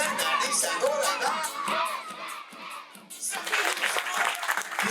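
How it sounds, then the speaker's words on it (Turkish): A concert audience claps and cheers on a spring tour stop, with dense applause from a crowd that drops briefly and then returns full and close. "Biz de sizi alkışlıyoruz."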